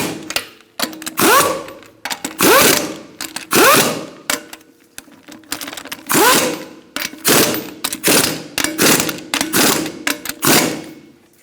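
A ratchet snugs lug nuts on a 2002-2006 Honda CR-V wheel in repeated bursts of rapid clicking, close and loud, with short pauses between each nut.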